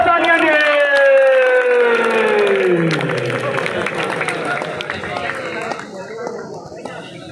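An audience at a college shield presentation ceremony claps and cheers loudly, with a sustained tonal voice-like sound over the crowd. The applause stays dense before gradually thinning out.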